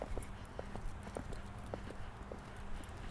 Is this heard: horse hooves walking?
yes